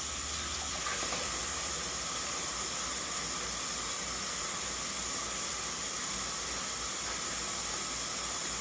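Tap water runs steadily into a sink while sliced onion is rinsed under it, a constant close hiss and splash that fills the whole stretch without pause.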